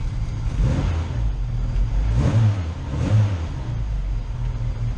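A classic Mini's engine blips and revs several times in quick bursts, close and loud, settling back toward a throaty idle between each rise.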